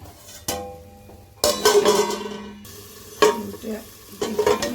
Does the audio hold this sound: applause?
no